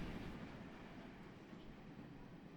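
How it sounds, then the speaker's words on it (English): A train rumbles past as a steady, fairly faint wash of low noise that holds through the whole stretch, with no talking. "That train went by quick."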